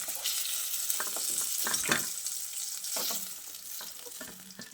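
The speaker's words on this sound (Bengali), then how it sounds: "একইভাবে বাকি মাছগুলোকেও ভেজে নেব।" Fish fries in hot oil in a pan, a continuous close sizzle and crackle with a few sharper spits and pops rising above it.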